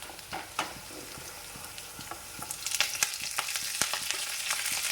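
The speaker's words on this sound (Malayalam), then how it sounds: "സബോളൊക്കെ ഏകദേശം ഒന്ന് വരട്ടിയെടുത്തിട്ടുണ്ട് അതിലേക്ക് ഞാൻ ഇതാണ് ഈ ഉലുവേല ഇട്ട് കൊടുക്കാം" Fenugreek leaves dropped into a pan of sautéed onions and green chillies sizzle and crackle steadily, the frying growing louder and busier with sharp spatters toward the end, with no talking.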